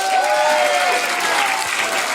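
A crowd claps steadily and loudly throughout, a dense continuous wash of applause with a faint tonal whine running beneath it.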